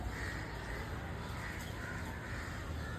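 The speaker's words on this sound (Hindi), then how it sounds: "कौवे कहते हैं हम किसी से कम थोड़ी हैं" Crows cawing repeatedly amid a dense wash of bird noise in trees in a city, fairly distant and steady throughout.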